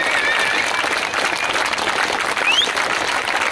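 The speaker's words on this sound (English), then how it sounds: "let's give them a special cheer" An indoor political rally crowd cheers and applauds anti-fracking campaigners in the front row, a dense, loud, continuous wash of clapping with scattered whistles and shouts.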